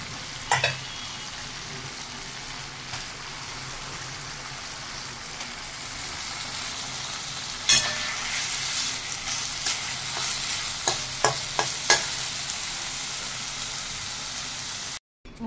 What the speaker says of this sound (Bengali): আর আদা বাটা দিয়ে জল দিয়ে এই মশলাটা কষাচ্ছি